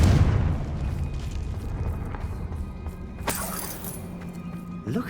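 A Confringo fire spell in Hogwarts Legacy explodes with a muffled boom and bursting crackle partway through, set against a rumbling game backdrop.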